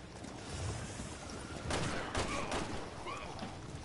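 Gunfire in the video game Resident Evil 6, a steady rattle of game combat noise with a couple of louder shot bursts near the middle, fairly loud and continuous throughout.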